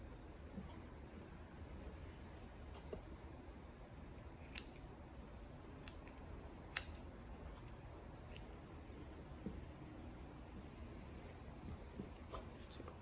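Scissors snip through macrame cord for a rainbow wall hanging: a series of small, crisp, irregular cuts, quiet and close, over a low steady room hum.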